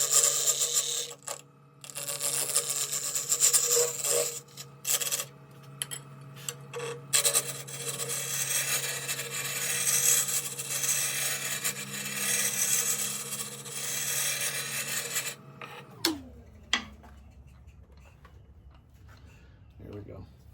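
Wooden blank spinning on a lathe as a parting tool scrapes a line into it, a continuous raspy rubbing with short gaps, then the motor winds down and the cutting stops near the end.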